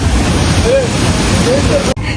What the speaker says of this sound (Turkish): Şelale bu.